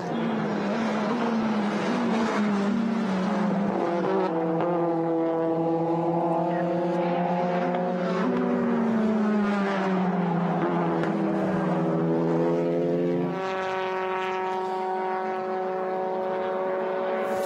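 Hyundai i30N TCR race cars at a Utah circuit drone past with rising and falling engine notes, strong tones shifting pitch as they accelerate and change gear, loud and sustained.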